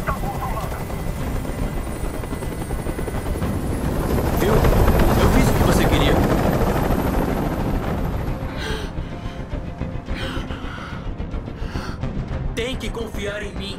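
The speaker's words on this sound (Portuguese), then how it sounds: "Eu não aguento mais esse barulho! Esse helicóptero tem que sair daqui agora!" Helicopter hovering in the video game Detroit Become Human, a loud, continuous rotor thrum that swells and then steadies, with tense voices speaking over it.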